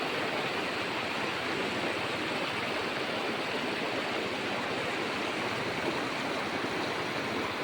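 Strong river water rushing steadily at Cayabu River, a constant, dense roar with no pauses and no talking.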